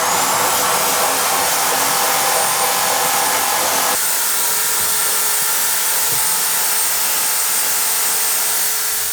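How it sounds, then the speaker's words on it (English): Sawzall reciprocating saw dressing demolition cuts in a wall during a remodel, a loud, continuous buzzing motor roar close by, easing slightly in intensity partway through. "I just finished dressing these cuts with the Sawzall."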